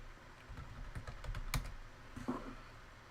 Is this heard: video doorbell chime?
no